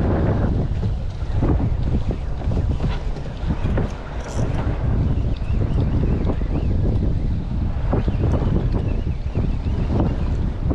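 Strong wind buffeting the microphone with a constant low roar, along with water sloshing, out on a fishing boat off Frontignan.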